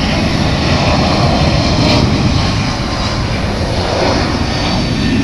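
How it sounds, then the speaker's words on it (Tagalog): A small airplane flies over an airport, with a loud, continuous engine roar that swells slightly and stays strong throughout; no one speaks. "itong maliit na eroplano, yan, dito lang nalipad yan kasi maliit lang sila eh"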